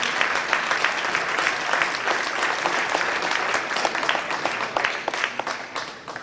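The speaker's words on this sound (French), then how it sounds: "Merci d'applaudir Anders Lind." Audience applause in a hall at a French table tennis league match as a player is introduced, sustained clapping from many hands that thins toward the end into a few distinct claps.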